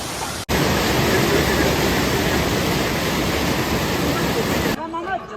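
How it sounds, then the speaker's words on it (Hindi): Strong waterfall roaring below a mountain path on the trek from Chandanwari to Sheshnag: a loud, steady broadband rush close by that fills the clip, cut by a brief dropout near the start and easing slightly at the end. "ये नीचे से ज़ोरदार झरना बह रहा है और हम इस झरने पर से निकल रहे हैं।"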